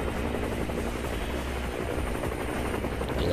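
A helicopter in the video game ATSS 2: Retribution gives a steady, dense rotor thrum with a continuous engine roar, loud and close throughout, with no talk.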